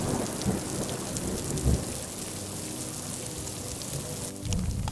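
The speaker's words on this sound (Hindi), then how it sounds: "अंधेरी रात में कड़कती बिजली के साथ जोरदार बारिश होने लग जाती है" Heavy rain pours down on a dark night while thunder rumbles, a steady dense downpour with a couple of louder cracks and booms rising out of it.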